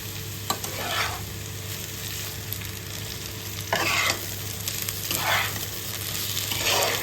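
Potatoes and pointed gourd being stirred with cumin paste in a frying pan for a Bengali aloo potol curry, a steady sizzle broken by repeated scraping strokes of the spatula at close range, with no voices.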